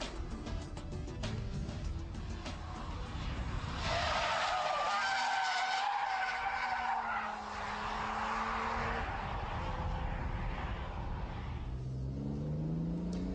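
A car drifting through a corner, its tyres skidding and squealing loudly with a wavering, sliding pitch over a steady engine roar that stays close and continuous for over ten seconds, with no talk.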